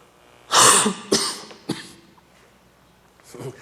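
Several loud, close coughs burst right into the microphone, two harsh ones back to back, then a shorter one and a faint final cough after a pause.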